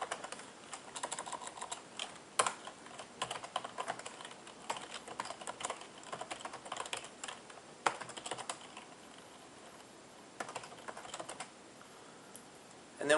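Someone types on a computer keyboard, a rapid, uneven patter of close key clicks lasting the whole stretch with short pauses between bursts.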